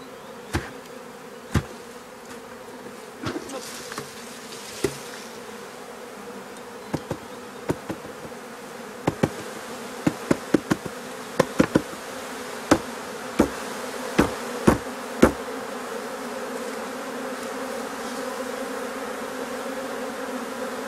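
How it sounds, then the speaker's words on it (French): A returning swarm of honey bees hums at the hive in a steady, moderate buzz, with sharp knocks and taps scattered through it and no talking. "On voit les abeilles qui rentrent dans la ruche."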